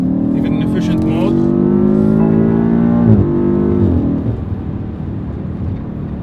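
A BMW F90 M5 super sedan in efficient mode pulls hard from a stop, its engine note climbing steadily through the rev range, loud and close from inside the car, then easing off near the end.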